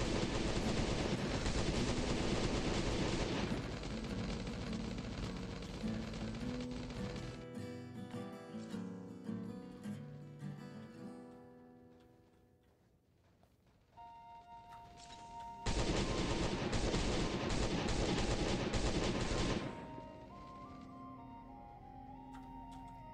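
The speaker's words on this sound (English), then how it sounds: "the turret is gonna start shooting the big one" A turret in Last Day on Earth: Survival fires long continuous bursts, a dense loud rattle lasting several seconds, pausing, then resuming in another sustained stretch, with game music and effects between.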